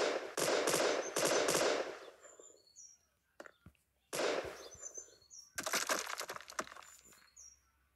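Bursts of rapid automatic gunfire from the video game Gun Sprit rattle in three loud volleys separated by short pauses, with a few sharp single cracks and small chirping effects in between.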